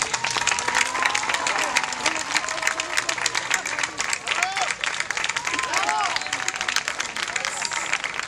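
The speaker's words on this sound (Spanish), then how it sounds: "creo que se merece un gran aplauso" Dense, sustained applause from a crowd at a neighbourhood festival opening speech for Felisa Marcos, steady clapping with scattered cheers and faint voices mixed in.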